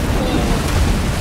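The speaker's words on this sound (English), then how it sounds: "I'm trying to drive the cannon" Deep rumbling cannon blasts and booms from a ship battle in the pirate game Pirates of the Caribbean Online, a dense, loud low roar with ocean-like wash throughout.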